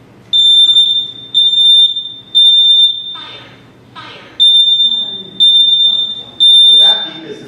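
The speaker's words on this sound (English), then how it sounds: "so that beep is the fire alarm" A combination smoke and carbon monoxide detector sounds its fire alarm during a test: six loud, shrill electronic beeps in a steady pulsing pattern. A pause after the third beep carries a brief clatter of handling noise.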